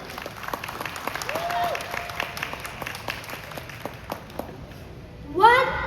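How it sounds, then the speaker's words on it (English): An audience applauds at a live talk, a steady spread of clapping with a few louder individual claps, voices and cheers mixed in, and a brief whoop near the end. "let's get a round of applause."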